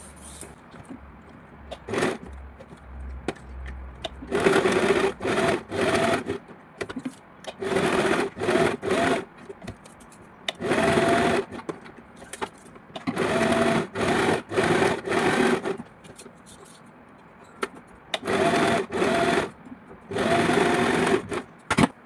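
Sewing machine stitching net frock fabric along the neckline, running in repeated loud bursts of rapid stitching separated by short pauses, near and alone with no talk.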